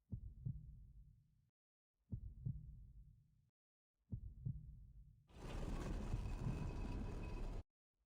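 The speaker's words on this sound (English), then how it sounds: "I can hear a heartbeat." Three slow heartbeat thumps, each a low double pulse followed by silence, sound in a horror-style video game scene, then a dense, loud hiss of noise swells in for a couple of seconds before cutting off abruptly.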